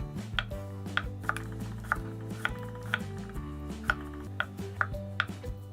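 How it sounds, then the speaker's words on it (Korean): A knife chops a vegetable into thin, flat square slices on a cutting board, giving a steady run of about a dozen crisp, close taps over a low hum. "이렇게 돌려갖고 이제 나박썰기를 해주세요"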